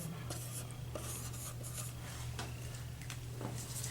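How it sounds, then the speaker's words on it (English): A Sharpie marker draws on a tile surface with short, scratchy strokes, close and faint over a steady low hum. "I'm going to go ahead and just draw some more"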